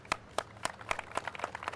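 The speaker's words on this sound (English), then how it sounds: "And a big round of applause for them" An audience applauding naval heroes of the Eastern Naval Command at a fleet review ceremony, with a steady patter of individual claps that builds slightly denser toward the end.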